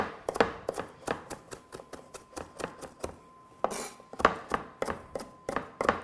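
A knife chops steadily on a cutting board, quick rhythmic thuds and clacks up close, with a brief pause midway before the chopping resumes.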